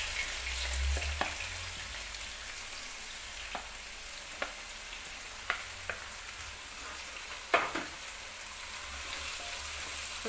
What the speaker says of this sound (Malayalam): ഇനി അതിലേക്ക് ഈ ഉള്ളിയും തക്കാളിയും കൂടി ഇട്ട് കൊടുക്കാം